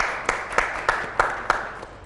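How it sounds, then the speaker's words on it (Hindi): Audience clapping at a naat competition event, heard as a series of evenly spaced claps over roughly two seconds, fairly close and moderately loud. "मुकद्दस भाई के लिए एक दफ़ा तालियां जी"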